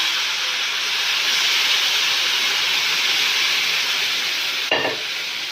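Hot sugar syrup is poured into semolina for sooji barfi and sizzles loudly. A dense, steady hiss with steam lasts the whole clip, broken by a brief stir or clatter near the end.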